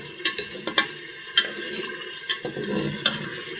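Bottle gourd curry is fried lightly in a pan. A low sizzle runs under irregular clinks and scrapes from a spoon stirring, close and fairly quiet, with no talking.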